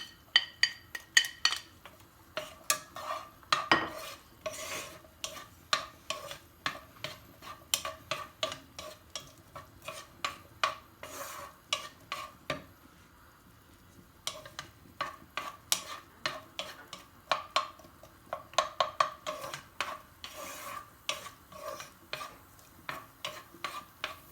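Onion cooks in olive oil in a pan, with a rhythmic stream of utensil scrapes and taps against the pan over a soft sizzle, pausing briefly midway before continuing.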